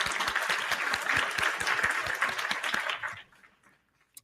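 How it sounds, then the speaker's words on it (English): Applause for a guest at the opening of an interview show, dense clapping from a small audience for about three seconds before it stops abruptly, leaving near silence. "Let's give him a round of applause, guys"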